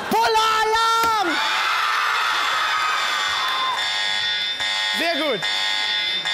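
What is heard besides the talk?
alarm buzzer button sounding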